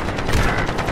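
Video game gunfire during a soldier firefight, a dense, loud burst of rapid automatic shots filling the whole second with no pause.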